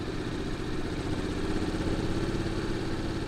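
A Honda NC750X motorcycle engine runs steadily while the bike rides downhill, a continuous close mid-pitched drone under engine braking with light clatter and no changes in rhythm, and no voices.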